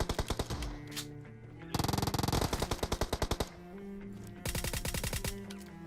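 Gunfight in the mobile battle-royale game PUBG Mobile: rapid automatic gunfire comes in several bursts, some fast and dense, others spaced single shots, loud and crisp with no talking.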